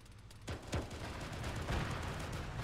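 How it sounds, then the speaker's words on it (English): Distant gunfire pops in a few scattered bursts over a steady rumbling background, muffled and far off, with no voices. "We're being shot at."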